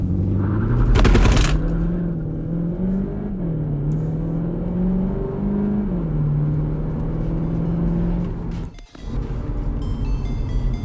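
A Cupra Leon e-Hybrid with 245 horsepower accelerates hard from a standstill, its engine note climbing steadily through a loud rising drone, with a brief break partway through before the pull resumes.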